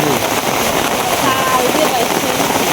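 Heavy rain pours down outdoors in a loud, dense, unbroken rush of noise, close and constant throughout.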